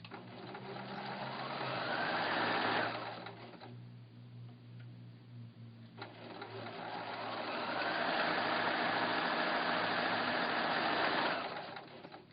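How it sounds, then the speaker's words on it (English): A sewing machine stitches fabric pieces for a windmill quilt block in two sustained runs of steady, close whirring, separated by a short pause. "So I will sew the second half of the block."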